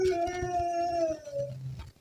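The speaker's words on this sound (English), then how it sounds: "He's seen in the video staring at something and whining for several minutes." A dog whines and howls in long, wavering, rising and falling cries that continue steadily for about two seconds, close and clear with no voices, while it stares at something unseen.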